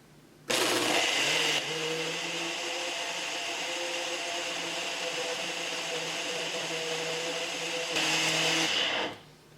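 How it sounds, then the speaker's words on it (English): A kitchen blender on its high-speed smoothie setting whirs steadily as it blends a mango lassi. The motor roars loudest at startup, then runs as a constant close drone for about nine seconds before cutting off. "We're going to start it, and we're going to press smoothie on high speed."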